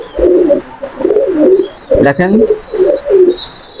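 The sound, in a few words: high-flying pigeons cooing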